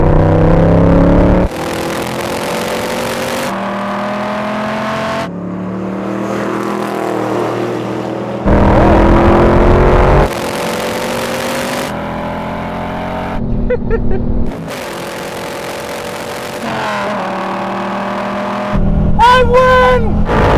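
Engines of a Cobra, a Viper and a Mustang roar hard under acceleration in a rolling drag race in third gear from 50 mph, loud and close, cutting between cars with sudden jumps in pitch.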